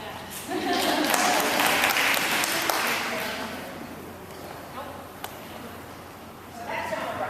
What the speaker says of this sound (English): They need applause for that.